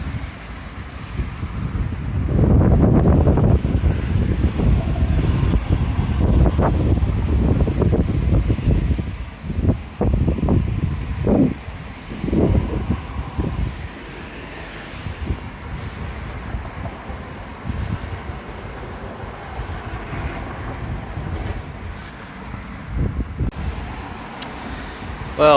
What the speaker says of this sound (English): It's raining pretty heavily now.